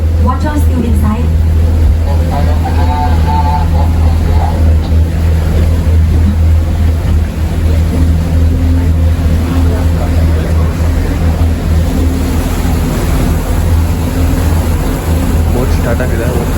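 A tour boat's engine drones steadily on a Phi Phi Islands trip in Thailand, a loud, constant low rumble with hull and water noise, while people talk over it at times.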